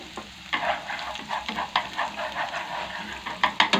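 Dried shallots and garlic fry in oil for a Vietnamese braised river fish with tomato, producing a bright, crackling sizzle with several sharp stirring clatters near the end.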